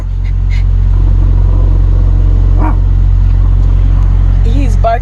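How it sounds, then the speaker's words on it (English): A dog barks a few times, faint and distant, over a loud constant low rumble like a running truck engine. "That's what he's barking at."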